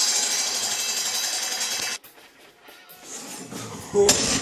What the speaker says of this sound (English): I'll flip this over, run screws into the back to hold everything in place